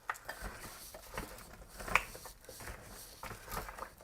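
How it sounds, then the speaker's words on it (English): Crockpot meal ingredients being stirred in a pot, with close scraping and soft clinking of a utensil against the pot in irregular strokes, no talking. "I'm going to stir this up a bit so it's not, so dry."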